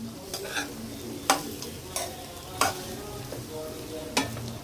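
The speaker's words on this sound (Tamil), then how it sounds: "இதுக்கு தேவையான சாதம் போட்டு நம்ம கலரணும்" Curry leaf rice is stirred in a pan over a soft sizzle, with a spoon scraping and clinking against the metal in several sharp, separate strokes spaced about a second apart.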